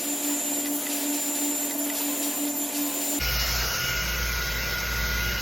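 An Ergo Ionic and Ceramic ER33 hair dryer blows continuously at close range as a loud, steady whooshing hum; partway through the tone shifts to a harsher, broader rush with a higher whine.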